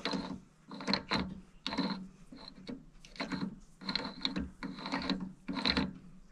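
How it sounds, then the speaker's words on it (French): Key of a thread-cutting die holder being turned by hand, giving repeated bursts of ratcheting, grinding metal clicks in an irregular rhythm, close and clear with no talk. "quand j'actionne la clé, ça fait tourner un filet à l'intérieur"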